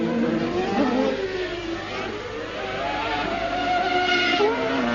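Formula 1 race cars from the 1995 season screaming past on track, high-revving engines overlapping in a continuous loud wail with pitch sweeps as cars accelerate and pass.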